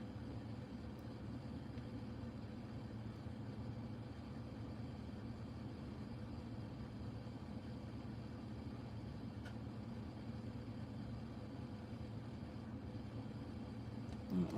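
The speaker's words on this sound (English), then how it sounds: "The truck sounds like it's low on oil" Truck engine idling, with a low-oil sound: a steady, low, continuous rumble running unchanged throughout at moderate distance, with no talk over it.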